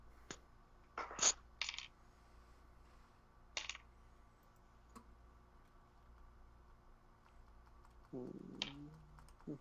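Dice clatter and rattle in a few brief bursts during a tabletop role-playing game session, with small clicking impacts spaced across a quiet room and a soft low voice near the end.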